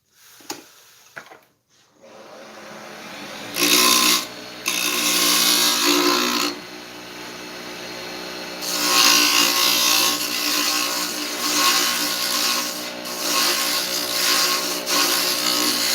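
A wood lathe turns a wooden Christmas ornament, with bursts of loud, rough cutting and scraping as the tool bites the spinning wood, pausing briefly between passes over a steady motor hum.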